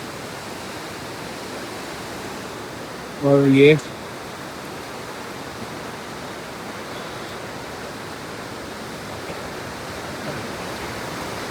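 Fast-flowing water of the Tons river rushes in a steady, dense roar throughout, with a brief spoken phrase near the start.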